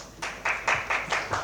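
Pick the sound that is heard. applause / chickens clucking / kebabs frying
applause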